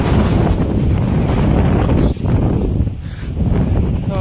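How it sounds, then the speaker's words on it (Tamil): Strong night wind roars across an open hilltop near Coimbatore, a loud, continuous low buffeting on the microphone with a brief dip midway before the gusts resume. "நைட்டு காற்றே பயங்கரமாக அடிக்குது"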